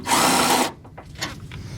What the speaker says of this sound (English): we have to take out the top 2 radiator bolts